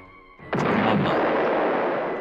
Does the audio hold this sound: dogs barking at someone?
no